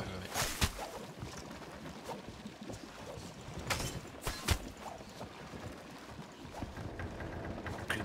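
Choppy ocean waves wash and splash around a ship in a naval video game, with gusting wind noise and intermittent louder bursts and thumps.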